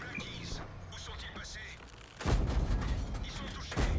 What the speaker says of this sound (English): Okay, artillery. Don't do what I think you're going to do